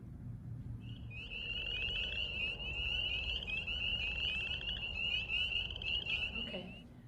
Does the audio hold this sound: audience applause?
no